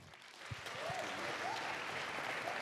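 An audience at an African American male achievement conference breaks into applause that builds within the first second and holds steady, with a few whoops over the clapping, heard at moderate distance.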